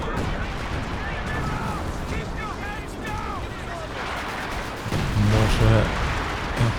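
Flame mortar and machine gun fire in the Company of Heroes 2 video game, with repeated distant booms and rattling bursts running throughout and swelling louder near the end, with a commentator talking over the battle.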